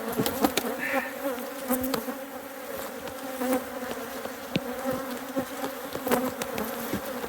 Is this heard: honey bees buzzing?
yes